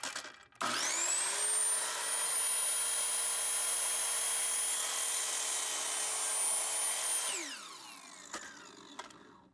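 A power saw whines up to a steady high pitch, trims the edge of a wooden board for a laundry-room wall cabinet for several seconds, then winds down; no one speaks.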